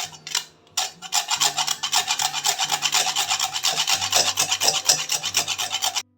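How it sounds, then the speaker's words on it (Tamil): Whole nutmeg grated by hand for thandai, a steady close rasping scrape in quick repeated strokes after a short pause at the start. "இந்த ஜாதிக்காயை துருவி எடுத்துக்கலாம்"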